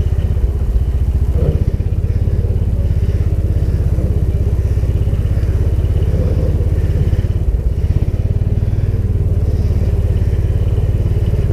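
A Taylor Dunn B6-10 burden carrier utility vehicle drives along a road with a steady, loud, low rumbling drone and light rattling, continuous throughout.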